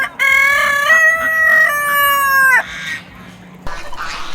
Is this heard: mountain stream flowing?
no